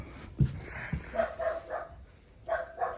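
At an animal shelter, a dog with a sore paw lying in hay gives a few soft, faint barks and whimpering yips, spaced irregularly and heard alone at low volume.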